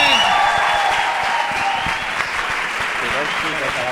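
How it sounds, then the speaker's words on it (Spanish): Sustained audience applause for the two contestants at a live roast battle comedy event, steady and dense throughout with no pauses. "Un fort aplaudiment pels dos contrincants."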